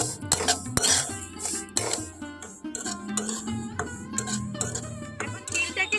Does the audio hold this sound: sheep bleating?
no